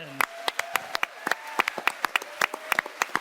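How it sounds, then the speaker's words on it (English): Applause from the Comic-Con Hall H crowd, with scattered clapping that comes through as distinct sharp claps and is fairly thin and quiet, with some faint voice underneath. "round of applause for our fan question."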